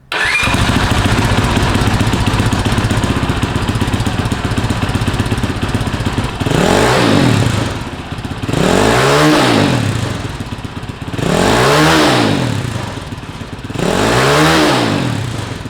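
A Honda CT70 motorcycle with an aftermarket exhaust starts up and runs at a loud, rough idle, then revs hard four times in rising and falling surges.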